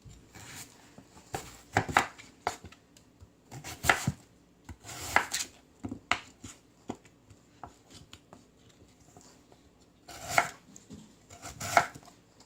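A knife chops radish on a cutting board while hwangtae haejangguk simmers, with irregular clusters of crisp thuds and taps, some louder bursts, and quiet gaps between them.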